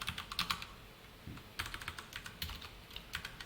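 Quick, close clicks of code being typed on a computer keyboard during a JavaScript lesson, coming in uneven bursts with a short pause near the middle and no voices.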